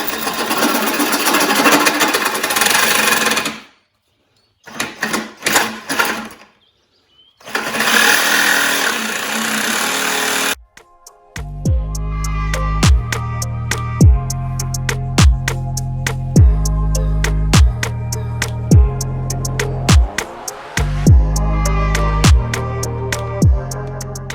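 A power tool cuts through aluminum on a John Deere and Suzuki outboard build, a loud harsh rasping grind in bursts with brief pauses, then giving way to a steady rhythmic tonal section.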